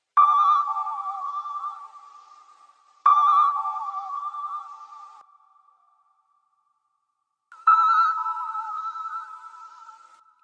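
Three separate tonal hits ring out and fade, each a short chopped sample snippet with a pitched, slightly metallic tone; the last one sits a little higher in pitch.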